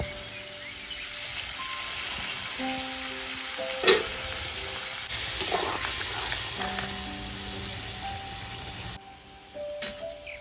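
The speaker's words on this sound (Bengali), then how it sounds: "তরকারিটা যখন ভাজা হয়ে গেছে সিদ্ধ হওয়ার জন্য অল্প করে দিয়ে দেবো জল" Mustard fish curry sizzling in a pan as water is poured in, a continuous loud frying hiss with intermittent stirring and a few sharp spatters, no talking.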